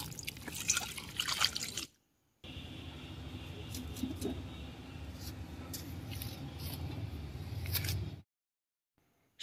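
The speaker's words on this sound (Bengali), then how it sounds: "পুঁই মিটুলি ভালো করে ধুয়ে নিচ্ছি" Malabar spinach (pui) stems being washed in water, with steady close dripping and splashing that runs for several seconds between two short silent gaps.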